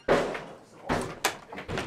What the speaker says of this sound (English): Next door, the officers have forced entry to one of the bedrooms.